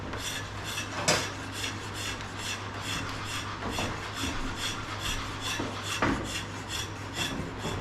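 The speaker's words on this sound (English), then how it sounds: "Let's continue the process of rather delicately, gingerly removing very fine bits of timber." Fine bits of timber are rasped off a wooden longbow in steady, continuous strokes, close and fairly loud throughout, with a couple of sharper scrapes standing out over a low background hum.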